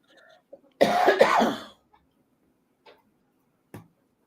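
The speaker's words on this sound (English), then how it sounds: "Sometimes I just cough in between songs." A single close, raspy cough from a music review show host in a quiet room, followed by a few faint ticks and small clicks.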